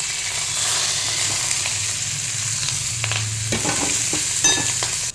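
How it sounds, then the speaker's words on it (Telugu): Chopped onions, green chillies and curry leaves sizzle in a cumin and chilli tempering, with a loud, even frying hiss and repeated spoon scrapes and stirring knocks against the pan. "చాప్ చేసి పెట్టుకున్న ఉల్లిపాయలు, పచ్చిమిరపకాయలు, కరివేపాకు కూడా ఇందులో వేసేస్తున్నాను"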